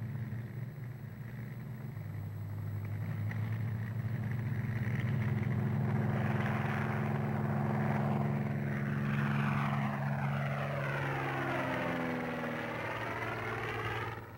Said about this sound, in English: The Spitfire is Britain's answer.